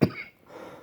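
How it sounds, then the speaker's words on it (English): A single short cough, close and abrupt, followed by a faint breathy tail. "just thinking about honey mustard makes me cough"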